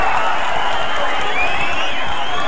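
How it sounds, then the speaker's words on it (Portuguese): A crowd claps and cheers for the women at a lively gathering, a dense, continuous wash of applause that stays loud and unbroken for the whole moment. "as palmas foram fracas"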